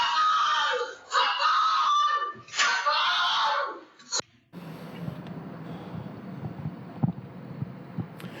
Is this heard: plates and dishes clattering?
no